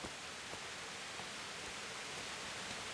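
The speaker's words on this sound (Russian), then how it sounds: "Ливень усиливается." Heavy rain pours down steadily in Kingdom Come: Deliverance, a dense, even hiss of downpour that fills the scene without breaks, with no voices over it.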